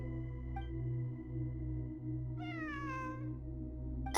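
A cat meows once in a video game, a clear, slightly wavering call over a steady low electronic hum and ambient drone, with a faint click before it and a sharp sound at the very end.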